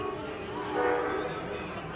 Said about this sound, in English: Heading north, and I believe that's our fourth train here today